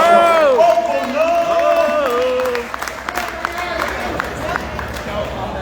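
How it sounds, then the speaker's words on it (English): Festival crowd applauding and cheering for a polka band member at a Polish American festival and country fair, loud at first and then easing into scattered claps, with sustained tonal music notes and voices over it. "give a nice round of applause for Andrew Kuchmarsky"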